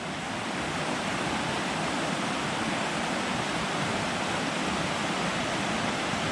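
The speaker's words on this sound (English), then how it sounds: "there's the mill race running down the side of the creek" Steady rushing water flows without pause in a mill race beside a creek, a dense broadband wash, with no voices.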